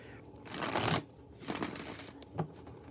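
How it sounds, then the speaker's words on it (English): Tarot-style cards being shuffled in bursts of papery riffling and flapping, with a long rush near the start, another around the middle and a brief snap toward the end, close and moderately loud with no talk. "All right, let's shuffle these."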